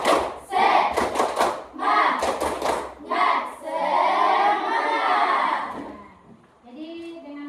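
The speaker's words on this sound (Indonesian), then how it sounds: "Semangat dulu, tepuk semangat." A classroom group performs a rhythmic tepuk semangat cheer clap: two quick bursts of patterned hand claps, followed by voices shouting together in unison.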